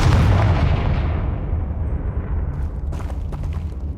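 A Confringo spell exploding in the Hogwarts Legacy video game, a loud deep booming burst that rumbles and slowly decays, with crackling debris toward the end.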